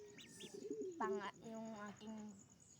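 Pet pigeons coo close by in a few soft, repeated throaty calls, with a quiet high chirp early on and a low room background.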